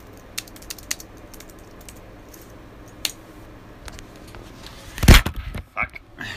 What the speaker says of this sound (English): I'm going to type and the keyboard's in an awkward angle.